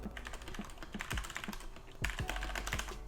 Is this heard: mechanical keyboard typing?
yes